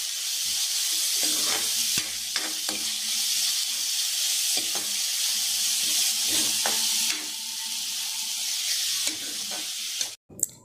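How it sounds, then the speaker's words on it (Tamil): Onions and curry leaves sauté in hot oil for an egg curry, giving a steady, close frying sizzle with repeated scraping stirs of a spatula against the pan throughout, and a brief clatter at the end. "வெங்காயம் நல்லா வதக்கி பொன்னிறமாக வரட்டுங்க."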